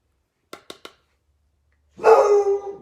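A dog gives three quick, sharp barks close by, then after a short silence lets out a louder, drawn-out bark.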